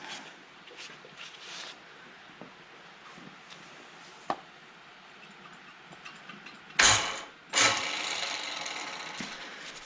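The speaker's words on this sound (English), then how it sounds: "I think I can get rid of this chain hoist now." Chain hoist ratchets with two loud, close bursts of metallic clicking near the end, after quiet workshop ambience and a single sharp tap, while a mill transmission is being installed.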